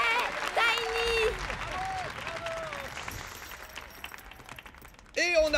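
An audience in the animated film Pup Star breaks into loud, sustained applause after Tiny's song, with cheering and voices calling out over the clapping before another burst at the end.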